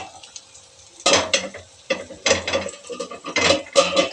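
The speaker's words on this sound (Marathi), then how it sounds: "आता आपण झाकण काढून पाहूया" A lid lifted off a pan of cooking tomatoes and onions, with metallic clanks and scraping rattles coming in short bursts after a quiet start.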